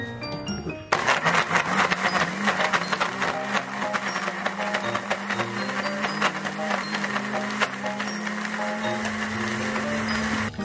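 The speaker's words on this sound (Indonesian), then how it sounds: "Masukkan gula aren dan terasi dan blender lagi." A kitchen blender grinds chili with palm sugar and shrimp paste, starting abruptly and then whirring loudly and steadily with a gritty, rattling churn for about ten seconds.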